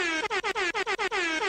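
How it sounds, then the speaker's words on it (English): Repeated blasts of an air horn sound effect during a live MMA reaction show, about eight short honks in a rapid, stuttering rhythm, loud and close with no talking. "You all deserve air horns."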